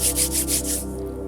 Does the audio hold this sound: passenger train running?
no